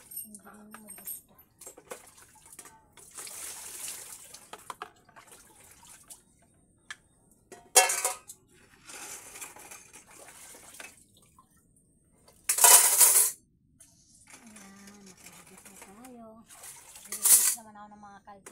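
Cooking pots are washed with water, with intermittent splashing and running-water bursts, clinks of metal and scraping, separated by quiet gaps, while a person talks now and then.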